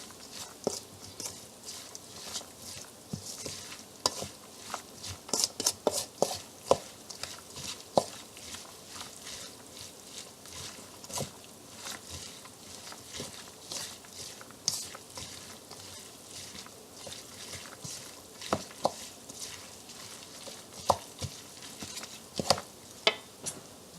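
Grated zucchini being mixed with sea salt and spices in a bowl, a long run of soft, wet scraping and patting strokes in an irregular rhythm, close and fairly quiet.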